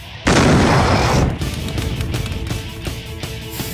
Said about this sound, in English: Dude, what would happen if we tried to launch a cartoon dude with a rocket?